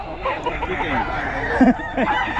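Chickens cluck and squawk at a busy rooster market, one short louder call rising briefly out of a dense, steady hubbub of nearby birds and crowd noise.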